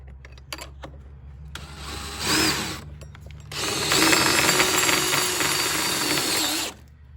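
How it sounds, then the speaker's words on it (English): A power drill drives self-tapping screws into a door strike plate of a jamb repair and reinforcement kit, with two short bursts and then a longer sustained whir near the mic, separated by quiet handling noise. "So I'm going to grab a couple of self-tapping screws and we'll get this thing set."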